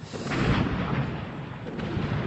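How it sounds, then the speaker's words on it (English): Distant explosions in Diyarbakır's Sur district rumble and boom in a low, rolling wash, with a heavier burst near the start and further thuds echoing afterward. "with more explosions ringing out in the background."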